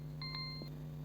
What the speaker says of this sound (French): je suis désolée pour le petit bip